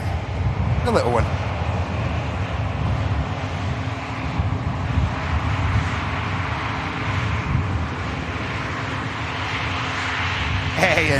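A jet airliner at Manchester Airport holds a constant rumbling engine drone, fairly loud and close, with someone talking over it and brief rising whistle-like tones near the start and end.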